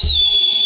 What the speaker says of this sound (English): You know, I'm gonna like whistle down the tunnel.